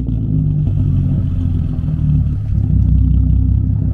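A VW Golf V R32 engine idles and revs close by, a loud, steady low rumble with slight swells in intensity throughout.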